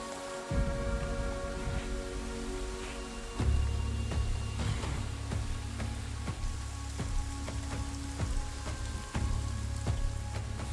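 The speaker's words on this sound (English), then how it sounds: "the rains broke." Steady rain pours down on parched savanna ground as a long drought finally breaks, a dense continuous hiss with scattered sharper drop impacts, fairly close and with no voices.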